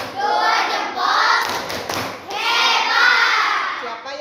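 A fifth-grade class of children chants together in a loud, close call-and-response rhythm, with hand claps and thumps marking the beat.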